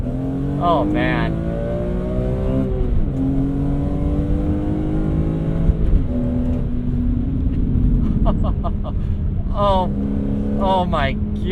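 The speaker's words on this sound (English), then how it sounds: "That is the S54 sound we all love." A BMW E46 M3 ZCP with the S54 engine revs hard on track, its rising wail repeatedly climbing and dropping through gear changes, loud and close, with a voice talking over it in the middle.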